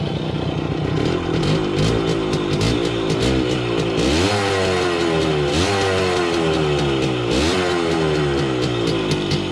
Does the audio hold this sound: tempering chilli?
no